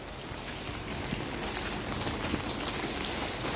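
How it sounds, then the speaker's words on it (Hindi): Heavy monsoon rain pouring steadily on the streets near Har Ki Pauri in Haridwar, Uttarakhand, a dense, constant hiss of rain on hard surfaces with no voices. "यहाँ पर अभी उत्तराखंड में इतनी तेज़ बारिश हो रही है"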